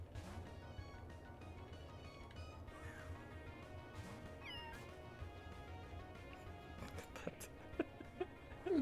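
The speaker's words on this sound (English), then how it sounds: "really weird blown out cat noise is very good" Weed Cat, a creature in a video game, lets out a strange, distorted, blown-out cat cry, heard faintly among other game sounds with sharp hits near the end.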